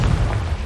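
A Confringo spell blast goes off in the video game Hogwarts Legacy, a dense, low rumbling boom that holds steady through the whole short burst.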